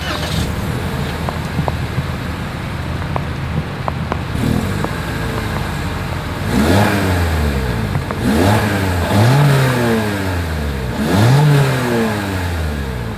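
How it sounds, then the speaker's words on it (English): A 2023 Toyota Corolla Hatchback exhaust idles with a low rumble, then several revs swell and fall back in quick succession, loud and close. "here is that exhaust clip"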